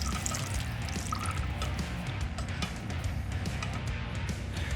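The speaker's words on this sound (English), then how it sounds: "take your milk and add that to the pot while stirring" Milk pouring into a pot of melted butter and dissolved flour for smoked mac and cheese while it is stirred, a steady liquid wash with faint drips and stirring clatter throughout, no talk.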